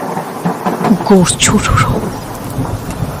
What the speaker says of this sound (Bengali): দূরে প্রচন্ড শব্দে মেঘ ডাকল